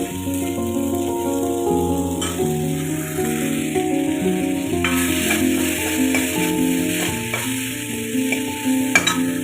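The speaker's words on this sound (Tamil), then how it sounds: "நல்லா ஃப்ரை பண்ணிக்கிறோம்." Okra fries in a pan with cinnamon, chili and cumin powder for a sambar, giving a steady, close sizzle throughout. The stirring adds a few scraping knocks, and tones sit underneath the sizzle.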